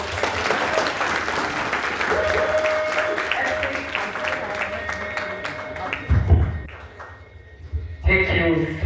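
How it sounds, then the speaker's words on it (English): Audience applause breaks out after a speech, a dense wash of clapping that holds steady for several seconds, then thins and swells again near the end. "A round of applause for"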